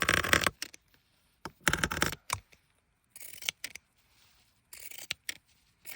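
Scissors snip through fabric being cut up for use in a journal, several bursts of close, crisp cutting strokes separated by short pauses, with no talking.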